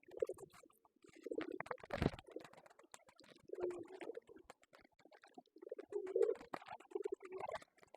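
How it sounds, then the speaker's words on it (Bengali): Soft pigeon cooing and faint fluttering close by as pigeons feed from a lap, with a brief loud rustle of a torn grit packet partway through and scattered small pecking sounds. "কবুতর এসে কোলের মধ্যে যা খাওয়া শুরু করেছে"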